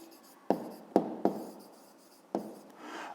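A pen scratches across paper in a few short, quiet strokes with pauses between them, close and alone, as a maths exercise solution is written out.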